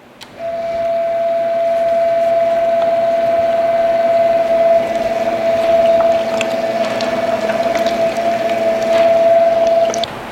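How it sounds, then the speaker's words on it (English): Electric meat grinder forcing partly frozen meat through a coarse plate, a loud, steady motor whine with a constant tonal hum lasting about ten seconds, close by and without speech. "the first grind is going to be on this coarse plate, just to make it easier on your grinder."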